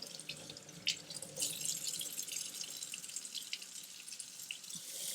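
Water runs from a sink tap over a rhinestone tumbler as it is wetted, a steady close splashing stream with brief louder splatters and drips.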